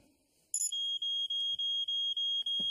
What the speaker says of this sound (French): j'ai un détecteur de fumée comme tu me l'as demandé. Excellent. On va faire un test pour voir s'il marche.